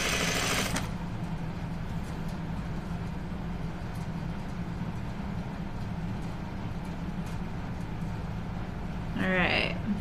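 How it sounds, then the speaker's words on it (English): A sewing machine runs steadily while joining the sleeve lining of a Cascade duffle coat, a close, even mechanical hum lasting throughout, with a short sharp noise at the start and a faint voice near the end. "I'm just gonna sew my sleeve lining together"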